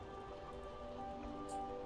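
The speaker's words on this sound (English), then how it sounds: "The rain does cast something of a sadness upon it all" Soft, steady patter of rain falling in the ancient city of a video game, a quiet continuous wash under faint tonal background music.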